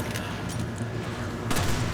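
Dense gunfire and blasts in Resident Evil 5 rumble continuously, with a louder grenade explosion near the end; no clear talking.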